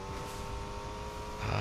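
A badly beat-up car in Fortnite drives along with a steady engine drone, growing louder and rougher near the end as it revs up.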